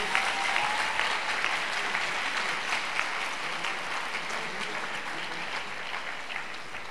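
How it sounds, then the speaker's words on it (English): Audience at a university leadership lecture applauds steadily, a dense close patter of many hands clapping throughout that eases slightly toward the end, with no talking over it. "Please let the applause be big."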